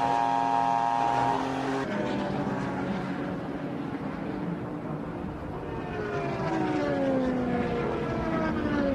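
Race cars at the Rolex 24 at Daytona, including the number 33 Mercedes, scream past with loud, high-pitched engine whines that sweep and shift in pitch as they pass, one car fading before others rise again.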